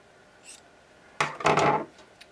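Scissors trim a fabric hem at a sewing table, giving a short, close burst of crisp snipping and rustling cloth that lasts about half a second after near silence.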